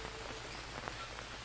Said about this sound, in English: let's sleep just about an hour and see about getting a little bit of energy because it's raining anyway